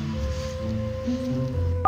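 A mobile phone dialing a call, with a run of steady electronic tones over a low background hum and a brief sharp tone burst at the very end.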